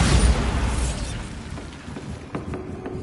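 A Bombarda explosion spell going off in Hogwarts Legacy: a loud booming blast that decays into rumbling debris, followed by smaller scattered pops and cracks.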